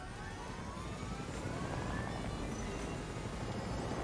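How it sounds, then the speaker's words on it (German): Choppa helicopter in the video game Fortnite, a continuous loud rotor and engine whir with a faint rising whine, steady throughout and with no talking. "Dann schnappe ich mir den Heli"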